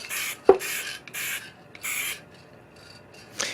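Several short hissing bursts of an aerosol spray can of Krylon UV-Resistant Clear Gloss sealant, separated by brief pauses, close by with a faint click.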